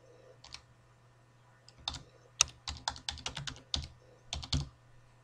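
Keys clatter on a computer keyboard while a form is filled in Microsoft Word 2010, a close, quiet burst of irregular quick taps after a short pause, with no talking.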